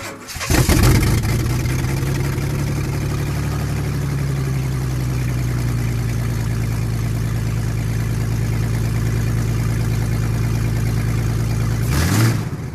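A car engine with its spark plugs removed cranks over steadily on the starter for about eleven seconds, a loud, even, uncompressed whirring drone that runs without firing and then cuts off.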